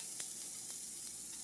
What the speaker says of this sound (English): So now we're going to plop our meatballs in. You hear that sizzle?